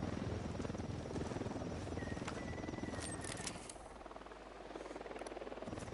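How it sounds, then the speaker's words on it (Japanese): Helicopter rotor thumping steadily through a Ghost Recon Wildlands game scene, a continuous moderately loud drone that eases slightly about halfway, with brief electronic game tones over it and no talk. "ヘリまで飛んでるし嫌になっち"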